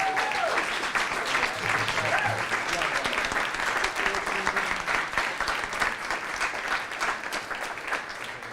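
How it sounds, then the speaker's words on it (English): Sustained audience applause for national leaders at a diocesan conference session, steady dense clapping filling the whole stretch at moderate level with a little crowd murmur underneath. "Give your national leaders a big round of applause"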